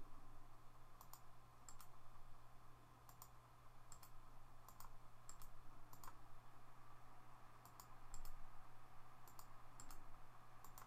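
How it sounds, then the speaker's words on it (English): Computer keyboard keys clicked in short bursts of a few quick taps, separated by pauses, as a command is typed in AutoCAD; close and crisp over a steady low hum, with no talking. "Type TR for trim."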